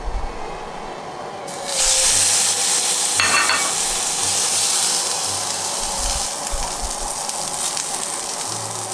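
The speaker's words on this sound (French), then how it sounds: "Là, mon huile est chaude. Je vais donc y placer mon filet de bœuf." Beef fillet dropped into hot oil in a pan for a Rossini steak: after a quiet second, a loud, close sizzle bursts up and holds steadily, with faint low knocks of the pan underneath.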